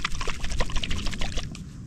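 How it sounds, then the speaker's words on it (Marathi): Water pours and splashes in a steady, busy rush for a couple of seconds, close by, during a kayaking outing at a hidden Konkan coast beach. "पाण्याचा आवाज"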